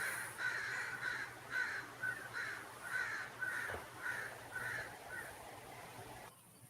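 Crows cawing outdoors, giving a steady run of about a dozen evenly spaced, moderately distant caws over a constant background hiss.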